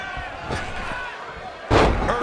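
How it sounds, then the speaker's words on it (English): A body slam hitting the mat in the wrestling video game WWE 2K20, a heavy thud that lands near the end over crowd noise and commentary. "Earth-shaking power slam."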